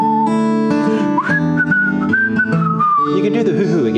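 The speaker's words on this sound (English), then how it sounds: "Whistle." During a church service, a clear, bright melodic whistle glides and holds over a busy musical backing, close and prominent.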